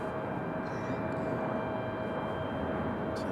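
An American airliner in retro livery at Raleigh-Durham airport produces a steady, broad engine roar at moderate distance, an unbroken rumble with a faint tonal whine and no talk.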